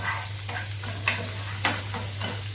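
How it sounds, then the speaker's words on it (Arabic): Peppers frying in a pan with a constant sizzle, broken by a few distinct scraping stirs of a utensil spaced about half a second apart, close and clear with no talking. "انا هقلب بس الفلفل تقلبتين كده"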